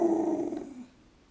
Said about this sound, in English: She's a dog.